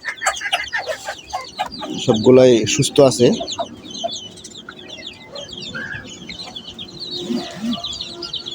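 A hen and her chicks of about twenty-seven days cluck and peep at close range around a feeding spot, with a burst of louder clucking and someone talking over them.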